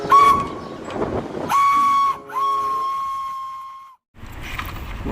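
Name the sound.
toy Thomas the train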